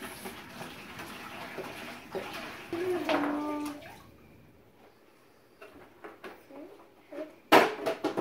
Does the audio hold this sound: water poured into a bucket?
yes